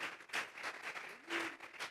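A church congregation claps in several uneven bursts, fairly faint and distant, with a voice briefly audible between them.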